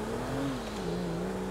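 A car in GTA V drives with a steady engine drone whose pitch rises and dips slightly as it speeds along, loud and continuous with no talk.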